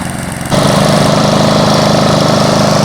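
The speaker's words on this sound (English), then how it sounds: "The machine runs fine. It is surging a little bit sometimes, but it is also just idling." A restored machine's engine idles with a loud, steady, rapid chug that steps up sharply early on, then holds with a slight surge in its throb, close and alone.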